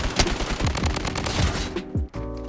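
Rapid automatic gunfire from the video game Blood Strike, dense bursts rattling steadily for about two seconds before cutting off, followed by a short mechanical clatter and a low hum.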